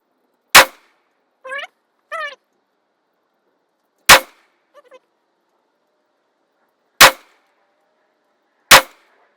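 POF Revolution rifle firing core lock rounds, four sharp, loud shots spaced a few seconds apart, each ringing briefly, with short metallic clinks between the first two.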